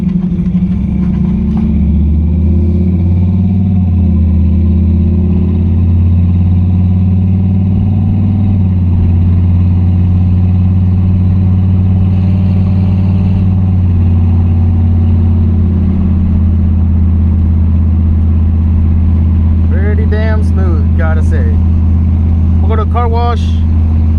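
Chevrolet C10 truck with an LS engine, fresh transmission and 2600 stall converter, heard from inside while driving on the road: a steady, loud low engine drone throughout, with a voice talking over it.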